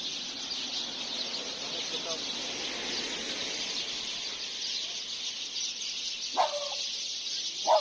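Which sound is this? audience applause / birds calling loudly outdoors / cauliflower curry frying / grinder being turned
birds calling loudly outdoors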